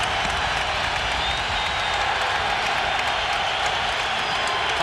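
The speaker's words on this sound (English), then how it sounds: "And the crowd has come alive again." Crowd noise fills a basketball arena during a 2001 NBA Eastern Conference Finals playoff game, a steady dense roar of cheering and applause throughout with no break or clear peak.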